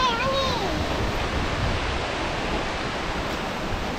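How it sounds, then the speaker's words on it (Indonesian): Strong wind during a heavy downpour, a continuous rushing roar that stays loud and even throughout, with a brief faint tonal chirp near the start. "Angin kuat."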